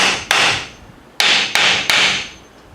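Four sharp, loud metallic hammer blows strike a Chrysler 727 transmission case, each with a ringing decay: one, a pause, then three in quicker succession, close and without talk.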